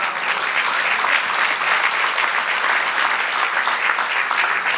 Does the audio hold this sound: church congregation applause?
yes